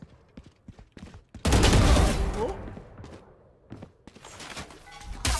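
A loud burst of rapid automatic gunfire erupts partway through a video game match. Quieter footsteps and thuds come before and after it, and a person's voice comes through faintly in the background.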